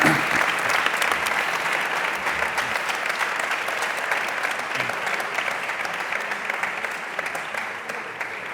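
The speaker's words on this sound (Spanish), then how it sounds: "Yo creo que los cuatro merecen un fuerte aplauso" Round-table audience gives the four panel speakers strong, sustained applause, a dense, even clapping from many hands that holds steady and tapers slightly at the end.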